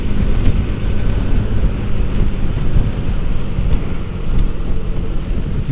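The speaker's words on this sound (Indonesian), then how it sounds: "Ini bisnya ngebut mampus, coy." A bus speeds along the Pantura highway, heard from a nearby motorbike as a loud, continuous roar of engine and road noise with heavy wind buffeting the microphone.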